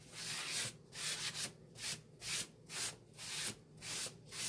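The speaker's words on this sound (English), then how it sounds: "I'm going to rub it just a little bit more." A chalk transfer on a Halloween pumpkin is rubbed by hand in steady back-and-forth strokes, a soft rhythmic scraping that repeats about twice a second, close and quiet with no talk.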